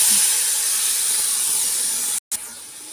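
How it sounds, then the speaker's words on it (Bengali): Mustard and poppy seed paste hits hot fish-frying oil seasoned with black cumin, producing a loud, close, continuous hiss that cuts out for a moment near the end and then resumes. "এরপর আমি এর মধ্যে আগে থেকে বেটে রাখা সর্ষে পোস্তটা দিয়ে দিচ্ছি।"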